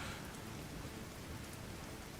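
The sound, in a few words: rain falling in the video game The Division 2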